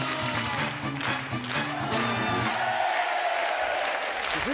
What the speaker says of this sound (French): on peut les applaudir tous les quatre pour cette deuxième marche qui arrive